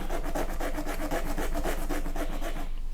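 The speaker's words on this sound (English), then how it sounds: "Not much blending, but more like scraping the waxy buildup off." Wax crayons of the Maped and Staedtler kind scrape across paper in a steady, rapid back-and-forth rasp, close and continuous for about three seconds with no talking.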